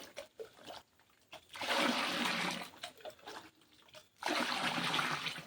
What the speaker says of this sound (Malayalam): അതിന് കുറച്ചും കൂടി വെള്ളം വെച്ച് നേർപ്പിക്കാം.